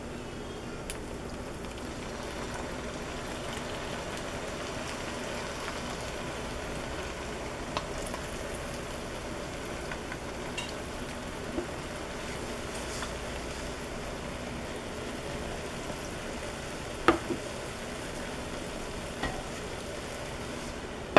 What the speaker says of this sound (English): I'm going to add just a little bit more broth.